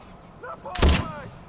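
A single loud gunshot in the video game Far Cry 4 cracks out sharply near the middle, briefly preceded by a voice.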